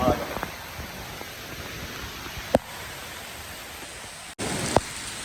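Heavy rain pours steadily in a landslide-hit village area, a dense continuous hiss close by with a couple of sharp knocks; no talk is heard.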